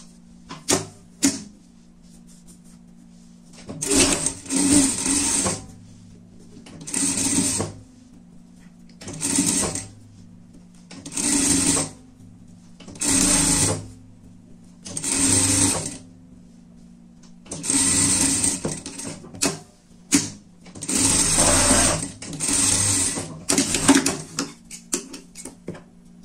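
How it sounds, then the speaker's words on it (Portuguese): Sewing machine stitching a safety seam on a fabric pet cover, running in about nine short bursts of rapid mechanical whirring separated by brief pauses, close and clear with no talk. "Aqui a gente aproveita e passa uma costura de segurança."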